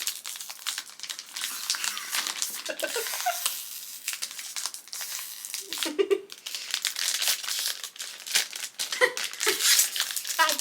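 Crinkly plastic packaging crackles and tears in bursts for several seconds, with brief laughter and voices mixed in.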